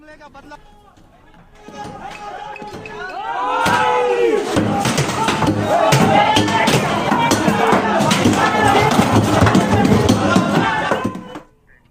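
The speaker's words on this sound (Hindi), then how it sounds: "कराची में यूएस दूतावास पर भीड़ का हमला।" A large crowd storms the US embassy in Karachi, a roaring mass of shouting voices and battle cries that swells after a quieter start and stays loud and dense, with scattered slams and bangs before cutting off.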